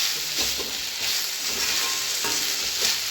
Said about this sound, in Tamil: நல்லா கலந்து விட்டு வதக்கி விட்டுக்கலாம் அப்படி இந்த எண்ணெயிலேயே ப்ரக்கோலி வதங்கிக்கணும்